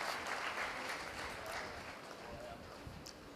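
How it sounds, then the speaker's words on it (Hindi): Applause from the audience at an Indo-Pak poetry gathering welcoming a performer, a steady wash of clapping that gradually fades, with faint voices underneath. "बहुत सारी तालियां।"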